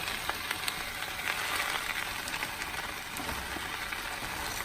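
Spinach wilting in a pan for a sausage and egg breakfast scramble, a soft, even crackling sizzle with scattered light pops and occasional quiet movement of the leaves.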